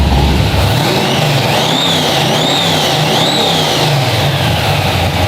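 A big block Ford Mustang engine runs loud and close, a steady rumbling idle with rising and falling revs, alone without any talk.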